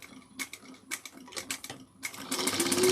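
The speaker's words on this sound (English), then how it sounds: "I'm going to sew this at 3/8 of an inch." A sewing machine stitches a woven tote seam at 3/8 inch in short close bursts, several quick runs separated by pauses before a longer steady stretch at the end.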